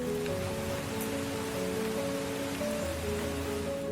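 Steady rain falls on and around a police officer standing outside, a continuous close, even patter with a low background hum and no voices.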